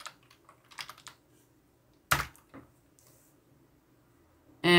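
Someone typing a Python Django command on a computer keyboard: scattered key taps with one sharper clack midway and a loud final key strike, close and fairly clear, with no talking.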